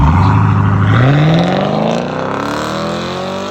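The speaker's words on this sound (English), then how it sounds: "Chevy SS Camaro rear muffler delete." A loud, deep 6.2L V8 exhaust on a 2021 Chevy Camaro SS with rear muffler delete roars as the engine revs up, pitch rising, then the throaty rumble drops back and continues more quietly.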